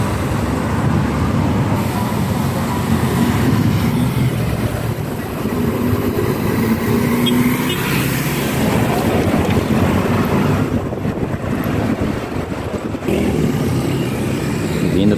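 City buses move along Rua João Pessoa in central Santos, and their engines rumble and pass by loudly in steady street traffic, with wind buffeting the microphone.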